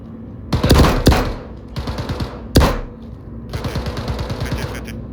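Gunfire rings out in the game Star Citizen during a bunker attack, loud bursts of rapid automatic fire with sharp individual reports, several separate volleys close together, then a longer stretch of quicker, lighter shots.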